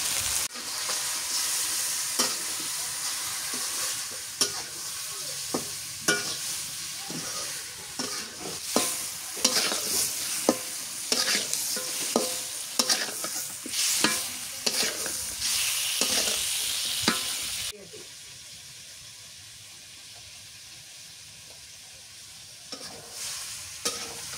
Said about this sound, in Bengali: মরিচের গুঁড়ো দিয়ে নুন দিয়ে আগে ভেজে নিই।